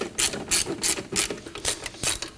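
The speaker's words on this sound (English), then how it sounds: "with our same 12mm, we can start to loosen up the tensioner" A 12mm ratchet loosening the serpentine belt tensioner on a 2003-2006 Subaru Baja 2.5L H4, with repeated loud, close clicking bursts in a steady back-and-forth rhythm.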